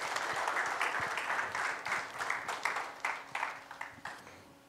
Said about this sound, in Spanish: Dale un aplauso al Señor si tú eres de esos